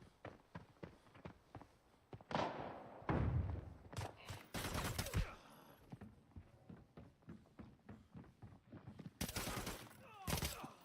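Gunfire in the Arena Breakout video game during a competitive match at the Port Authority, with bursts of sharp shots and rapid volleys scattered across the scene, some loud and close, while a commentator talks over them.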